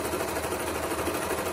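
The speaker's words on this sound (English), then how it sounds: "This is with a serger, not a sewing machine." A serger runs continuously while stitching fabric for a circle skirt, a fast, steady mechanical whir and chatter, close and even throughout with no pauses.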